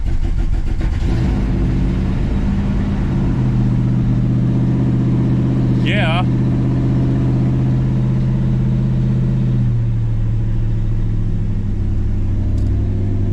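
A car engine cranks, catches and settles into a steady, loud idle, with a brief rising squeal partway through and a single short spoken word.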